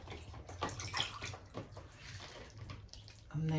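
Plant roots being rinsed and swished in a container of water during repotting, with steady splashing and sloshing close by and a voice faintly present at times.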